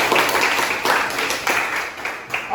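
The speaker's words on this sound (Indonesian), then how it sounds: "Tepuk tangan dulu untuk kita semua" A school class applauds together, a dense broadband patter of many hands clapping that swells in short waves and carries steadily through the whole stretch.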